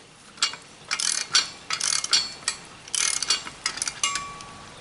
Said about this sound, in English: Let me get cranking down on those.